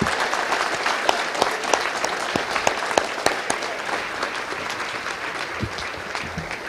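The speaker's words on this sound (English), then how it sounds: "let's give all recipients tonight a warm round of applause" A room full of people at an academic awards ceremony applauds warmly, steady clapping that holds throughout and eases slightly toward the end.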